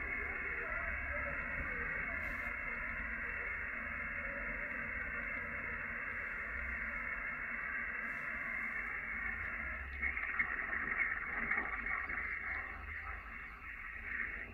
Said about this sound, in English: This noise is without filters.